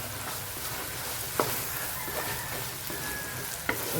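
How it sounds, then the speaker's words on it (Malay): Fish cake and fish balls cook in a pan with tauco and dried shrimp for bihun, a steady close sizzle and crackle of frying with a couple of sharp stirring knocks, no talk. "Kita letakkan fish cake dengan fish ball kita. Biar dia sama-sama masak."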